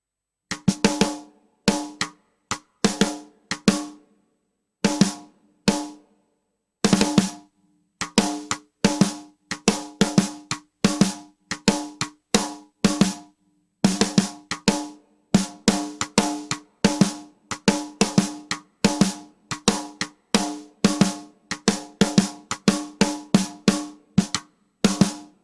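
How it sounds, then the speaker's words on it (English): A snare drum plays dry with its reverb muted, a long series of sharp, punchy hits in irregular rhythmic patterns, each decaying quickly into silence, with no talking. "So if I go back to my snare drum and decide to mute the reverb"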